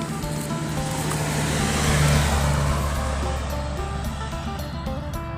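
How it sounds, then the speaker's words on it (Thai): Continuous road traffic drones from cars passing along a roadside near a cave, a loud steady rumble that swells slightly in the middle as a vehicle goes by, with no one talking. "เสียงดัง เสียงจาก รถยนต์เนาะพี่น้องเนาะดังเสียงดัง"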